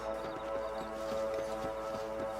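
Horse hooves clip-clop in Red Dead Redemption in a steady walking rhythm, fairly soft and close, under sustained tonal music, with no speech.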